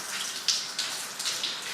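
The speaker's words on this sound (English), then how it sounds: "I rinse them out really well." Makeup brushes rinsed under running water, a soft continuous splashing stream with small irregular spatters and gurgles over a couple of seconds.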